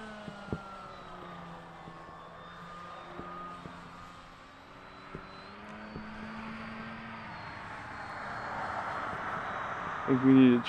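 An RC plane at full throttle with its flaps off, its engine giving a steady droning whine that holds through the clip and swells slightly near the end, with a few sharp clicks over it.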